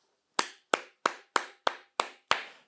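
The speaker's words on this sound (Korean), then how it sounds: "다 같이 박수." Seven separate sharp claps from a studio audience, following a lecturer's cue, evenly spaced about a third of a second apart and heard close and clear with no talking.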